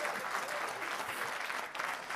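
A classroom of students claps in steady, dense applause that stays fairly loud and continuous throughout, without speech over it.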